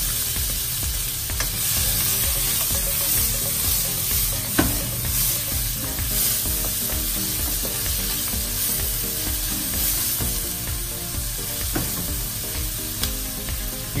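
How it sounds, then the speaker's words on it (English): Aromatic vegetables hit a hot wok for bitter gourd and tofu, sizzling and frying loudly while being stirred and tossed, a continuous crackle with scraping strokes and no voices. "Ilagay po natin yung ating mga aromatic vegetable or yung ginigisa nating vegetable."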